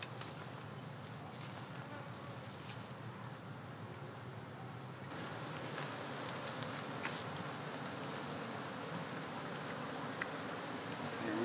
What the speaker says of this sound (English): There's a lot of bees right here.